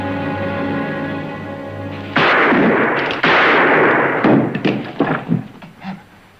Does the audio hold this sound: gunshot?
yes